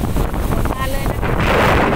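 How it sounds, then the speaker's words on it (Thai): Strong gusting wind buffets the microphone in the evening as a rainstorm approaches, a loud, continuous roar with surging gusts throughout. "ลมแรง"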